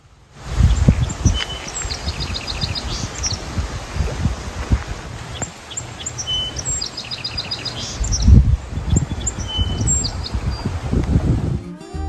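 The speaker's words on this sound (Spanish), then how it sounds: "Se oye un pájaro que no tengo identificada la especie." A bird sings repeated high, thin chirping phrases at a distance in Mont Tremblant National Park, Canada, over a steady background of rustling and low rumbling noise.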